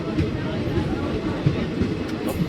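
A passenger train runs steadily on approach to Chital railway station, a continuous close rumble with faint rail clatter throughout, on a journey from Lathi toward Junagadh.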